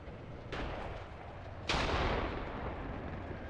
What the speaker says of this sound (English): Or was that just a regular grenade?